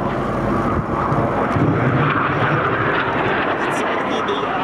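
Frecce Tricolori aerobatic jets flying at the Airpower 2011 airshow, a loud, continuous jet roar with wind buffeting on the microphone.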